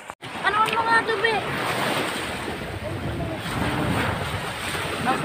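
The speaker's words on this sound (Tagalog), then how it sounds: "At nalakas na rin yung alon sa dagat." Strong sea waves surge onto a beach at Bucana, Nasugbu, Batangas after a lightning storm, a steady loud wash of surf mixed with gusty wind buffeting the microphone, continuous for the whole stretch.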